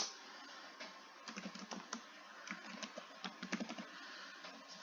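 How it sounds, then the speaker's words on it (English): Someone types a message on a computer keyboard, a soft and fairly faint patter of keystrokes in uneven bursts, close by and without speech. "So I can start to type a message in there."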